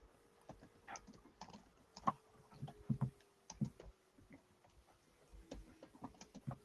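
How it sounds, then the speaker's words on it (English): Typing on a computer keyboard, a quiet, irregular patter of individual key clicks in short bursts, close to the microphone in an otherwise still room. "I'm going to type it for you."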